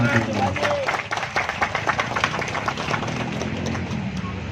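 An audience claps at a village political gathering in Tanjung Morawa, with scattered hand claps popping over a busy crowd murmur before fading into steady background noise.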